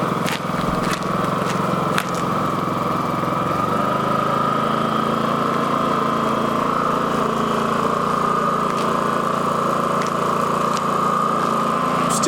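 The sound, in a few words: Champion 4500W dual fuel generator idling, eco mode off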